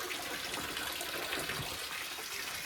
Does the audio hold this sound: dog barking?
no